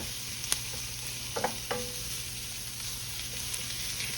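Red onions soften in a pan on the stovetop, giving a quiet, even sizzle broken by a few light scrapes and clicks from a utensil stirring them.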